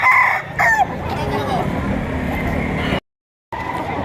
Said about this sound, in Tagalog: Malalaking manok ito.